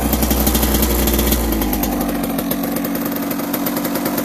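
A cold 2006 Kawasaki KX100 two-stroke dirt bike idles while warming up, a loud, close, rapid popping putter that stays steady and uneven, with no voices over it.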